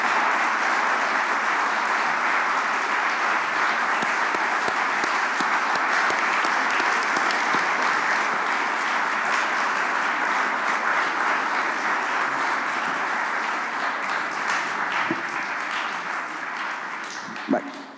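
An audience applauds at an Italian book talk, dense sustained clapping that fills the whole stretch at steady volume and tapers slightly at the end.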